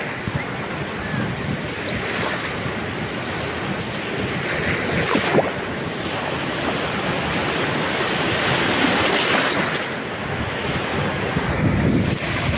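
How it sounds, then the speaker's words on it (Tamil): Ocean surf rolls and washes steadily on a beach, with wind buffeting the microphone throughout; waves break in continuous broadband rushes without distinct pauses. "ஒரு பெரிய ஒரு அலை வருது"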